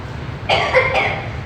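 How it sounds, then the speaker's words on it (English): A single short burst of coughing near the listener, a harsh outburst lasting about half a second, with nothing else around it. "I do not cough for my own amusement."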